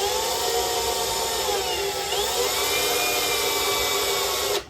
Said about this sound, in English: to drill just a small hole.